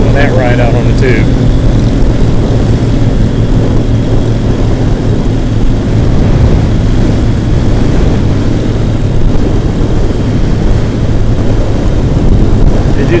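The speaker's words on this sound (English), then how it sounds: "See, the wind's picking up, so I apologize for the wind noise right now." Strong outdoor wind buffets the microphone at the start of a July 4th ride, a loud, continuous rushing roar with low rumble that never lets up.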